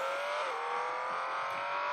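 A car braking in the Beach Buggy Racing mobile game, a steady engine drone with a brief tire-squeal shift partway through, loud and continuous with no voice over it.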